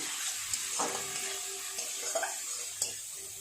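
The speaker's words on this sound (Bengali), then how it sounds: "মশলাটা ভাজা হয়ে গেছে, দিয়ে দেবো অল্প একটু হলুদ গুঁড়ো আর অল্প নুন।" Spice paste for a bitter gourd and prawn curry fried in a pan with turmeric and salt, a steady close sizzle with a few scraping stirs of a spoon against the pan.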